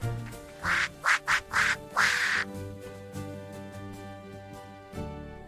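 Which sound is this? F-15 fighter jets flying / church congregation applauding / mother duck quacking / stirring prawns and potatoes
mother duck quacking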